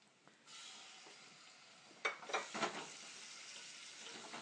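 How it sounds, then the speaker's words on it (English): Scallops dropped into a pan of garlic fried to a golden color: a steady sizzle starts at once, then sharper crackling bursts flare up as the pieces settle, before the frying evens out again. "Here we have the garlic almost turned into golden color. I'm going to add to it the scallops."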